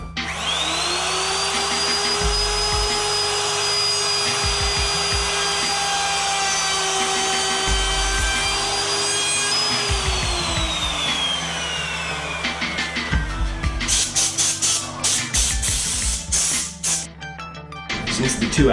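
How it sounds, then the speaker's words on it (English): A router cuts dovetail tails in wood on a General EZ Pro 860 dovetail jig, a loud, sustained motor whine with repeated rising and falling cutting passes, then clattering and rubbing as it winds down. "we're now going to cut the tails portion of the joint"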